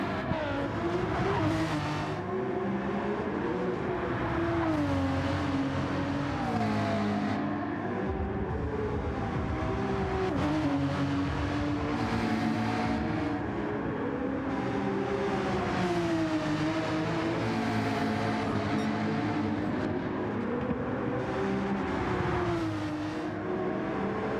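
Porsche race car engine in a racing game, screaming at high revs and rising and falling in pitch with each gear change, with other race engines blending in. The sound stays loud and continuous, with no voices.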